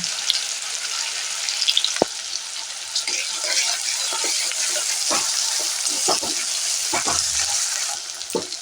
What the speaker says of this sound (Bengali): এবারে পেঁয়াজ রসুনটা ভাজা হয়ে গেছে